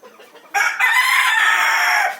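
A hen on an egg farm lets out a loud, drawn-out call lasting well over a second, close by, after a brief stretch of quiet farmyard background.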